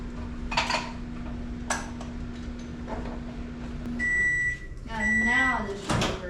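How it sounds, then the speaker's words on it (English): A kitchen microwave oven runs to heat bait-making plastic, giving a steady low hum for several seconds, then stops with beeps near the end, while people talk and items clatter close by. "you see Mr. Don is having Hunter run the microwave to heat it up"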